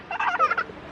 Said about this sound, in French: Regardez les oies là-bas qui arrivent